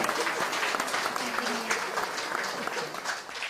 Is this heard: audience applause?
yes